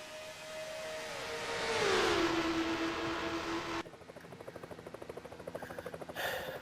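Race cars in a Daytona Goody's 300 racing video game roar through the gears, one engine whine swelling and sliding in pitch before the scene cuts to a steady pulsing drone of the field.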